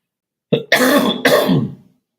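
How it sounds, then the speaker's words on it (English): A close, loud cough in a few harsh bursts, the second and third longer and rougher, then quiet. "Excuse my cough."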